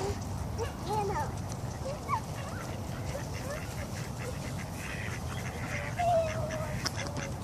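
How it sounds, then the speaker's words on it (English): Ducks quack in scattered, overlapping calls outdoors, moderately close, over a busy background of ambient noise and faint voices. "I know, but you can't hold these ducks, Bella."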